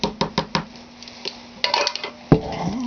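A metal teaspoon clinks repeatedly against a container while measuring cranberry fragrance into a homemade soap mixture, a quick run of four sharp taps followed by softer scraping and a final louder knock, close and clear.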